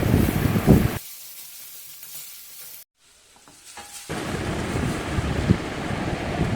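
Chopped onions fry in hot mustard oil in a wok, a loud broadband sizzle that drops away for a few seconds and then returns at full strength.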